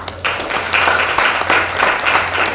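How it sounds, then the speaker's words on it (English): Audience applause at a Guyanese university talk event, a steady burst of many hands clapping, loud and sustained for a couple of seconds with faint voices mixed in. "Give a round of applause to Kevin."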